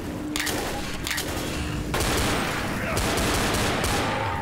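Gunfire in the zombie shooter Left 4 Dead: repeated close bursts of weapon fire, loud and dense, with a sharper heavier volley partway through and another near the end, over steady game noise.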